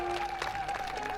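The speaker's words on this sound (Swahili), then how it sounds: "makofi kwa mheshimiwa wenyu" A short burst of audience clapping at a comedy performance, dense and fairly loud, fading slightly toward the end.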